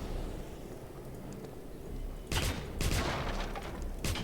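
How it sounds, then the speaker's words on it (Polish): Explosions in the Wolfenstein (2009) shooter game, two or three sharp blasts with rumbling tails breaking through a steady low background of game noise. "ale to był wybuch"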